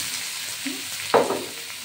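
Vegetables fry in a pan with onion and panch phoron, giving a soft sizzle that is interrupted by one short, sharp clatter midway through the brief moment.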